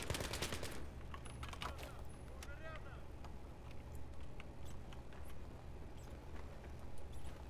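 Gunfire in the Battlefield 3 shooter game, a rapid burst of shots at the start followed by scattered distant reports under steady background rumble, with players talking throughout.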